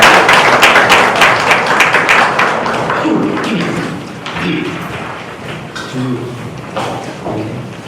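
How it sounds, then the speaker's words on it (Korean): An audience at a lecture academy event claps to welcome the lecturer to the stage. Dense, loud applause fills the opening seconds, then thins into scattered claps and thumps as voices rise. "원장님이 나오실 때 여러분 큰 박수로 환영해 주시기 바랍니다."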